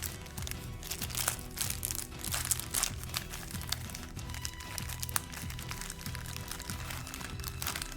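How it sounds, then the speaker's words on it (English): A large stack of card packs being shuffled together, giving a continuous crinkly, crunching rustle of wrappers and card with dense rapid crackles throughout, close and steady over a low background hum. "Let's see if I can shuffle this many."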